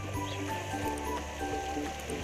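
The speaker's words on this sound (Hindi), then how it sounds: "अब हम इसमें हाफ गिलास पानी का डालेंगे" Half a glass of water is poured into a pan of fried fish curry, giving a soft, continuous splashing gurgle that runs steadily for a couple of seconds at close range.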